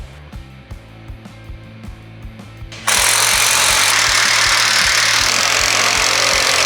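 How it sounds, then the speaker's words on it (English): A power tool tightens the bull-bar cradle bolts on a Toyota Hilux N80 in loud, rapid impacting bursts that start out lighter and then turn into a steady, harsh roar for the second half, with no voices. "Make sure when you are tightening the bolts that you tighten the cradle bolts first"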